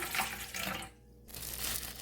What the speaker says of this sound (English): So in goes some ice cold water.